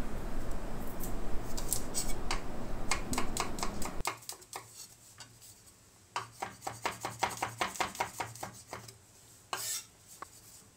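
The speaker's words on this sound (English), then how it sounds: "Next, you gotta chop the garlics." Three garlic cloves chopped with a knife on a cutting board, a long run of rapid, close, crisp taps, first over a rushing background hiss, then alone in a quicker, steady rhythm with a few sharper knocks.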